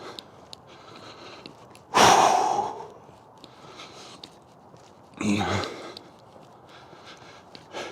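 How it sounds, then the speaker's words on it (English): Heavy breathing from a man on an interval walk for fitness, two loud bursts of exhaled breath a few seconds apart over quieter outdoor background noise. "for the heavy breathing. If it's coming through on the audio, which I'm sure it is."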